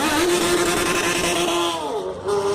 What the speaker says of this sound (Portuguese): Pra você assistir a potência de uma Honda.